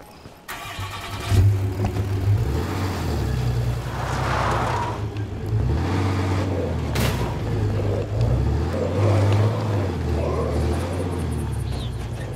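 A car in a video game drives off with its engine rumbling steadily and revving up in low surges, the drone running throughout with faint talk above it.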